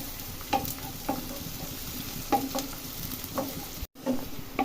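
Chopped onions fry steadily in a pan for a farm-chicken curry, giving a close, even sizzle broken by a few sharp scrapes and knocks of stirring. No one speaks.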